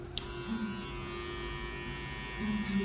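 Electric hair clippers fitted with a 1.5 guard cut hair during a drop fade, giving a steady, fairly quiet motor buzz that hums on throughout, with a few soft bumps of contact.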